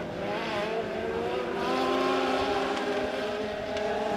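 A bunched pack of Legend cars racing hard on a dirt oval at Lebanon Midway Speedway in Missouri, engines droning loudly and continuously at high revs, with no talk.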